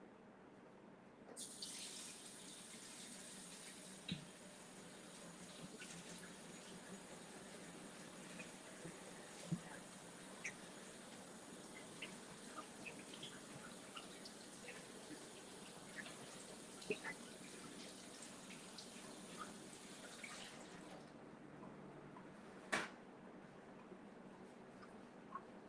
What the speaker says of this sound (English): let me wash my hands this time